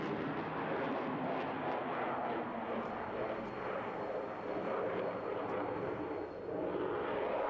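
A Saab Gripen swing-role fighter jet roars at an airshow with a distant, broad, steady rumble that fills the whole stretch with no break and no speech over it.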